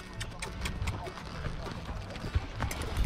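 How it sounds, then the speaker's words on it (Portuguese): A horse's hooves clip-clopping in an uneven run of close, sharp knocks over ground, with several people talking and calling out over the steps throughout. "o cavalo já deu um de bunda aqui com o Eduardo"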